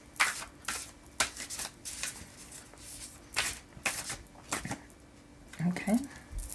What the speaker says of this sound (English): I'm now going to pull 3 cards from the Divine Feminine Oracle.